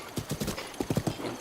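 Horse hooves clip-clop in Breath of the Wild, a rhythmic run of close, crisp hoofbeats with a faint whinny in the mix.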